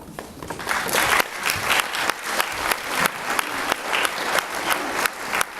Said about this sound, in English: I know we've done lots of clapping